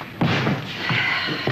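Three dull thuds against a door, spaced roughly evenly and fairly close, over a steady background hiss.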